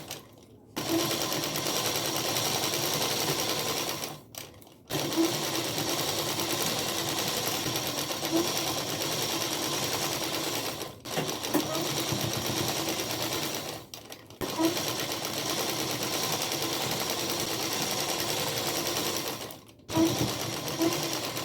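A sewing machine stitches the folded belt of a semi-Patiala salwar in steady, loud runs, pausing briefly four times between bursts, with no one talking.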